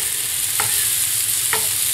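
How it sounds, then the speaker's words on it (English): Shallot and garlic cook gently in butter in a pan, giving a steady soft sizzle with two brief scraping stirs about a second apart. "let that shallot and garlic kind of soften up and poach in the butter"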